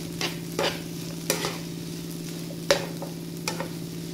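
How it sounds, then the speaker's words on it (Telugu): Raw banana (aratikaya) pieces fry in a pan over a medium flame, a steady low sizzle under occasional clinks and scrapes of stirring. "ఇప్పుడు చూడండి ఈ విధంగా కొంచెం ఫ్రై అయిపోయాయి కదా."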